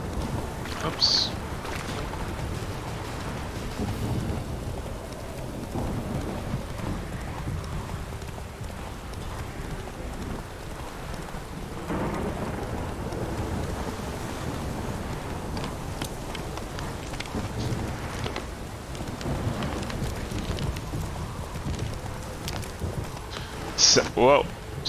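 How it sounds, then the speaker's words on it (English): Steady rain falls across an open world in The Witcher 3: Wild Hunt, a constant wash of patter and drips that lasts throughout, with horse hoofbeats and faint voices now and then on top. "What's with the rain?"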